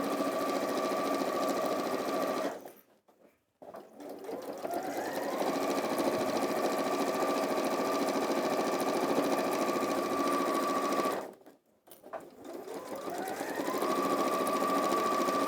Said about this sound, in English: starting with a reverse stitch and sewing along that raw edge until we get to that pen mark